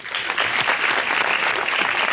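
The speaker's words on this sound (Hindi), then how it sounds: "तालियां।" Audience applause at a celebratory event, steady and dense clapping from a crowd sustained throughout without a break.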